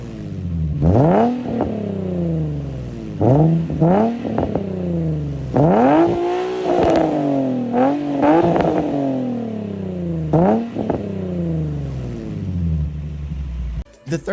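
A Nissan 350Z with a cheaper aftermarket exhaust revs repeatedly. Several sharp throttle blips climb and fall back, each ending in crackles, with a deep, raspy tone recorded up close.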